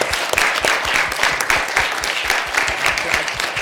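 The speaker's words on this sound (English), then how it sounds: "Please give a round of applause to our panelists." Audience applause for panelists at the close of a discussion panel, steady dense clapping from a room full of people, fairly loud and even throughout.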